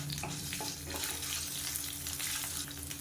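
Coriander seeds, garlic and ginger sizzle in hot oil in a pan, a steady close crackling hiss with faint stirring and no voices.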